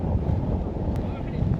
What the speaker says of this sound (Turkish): Çok sert bir rüzgar var.